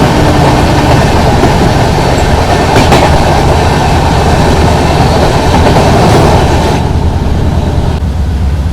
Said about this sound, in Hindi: चलिए दिल्ली से निकल रही दूसरी क्रॉसिंग हो रही है अपनी।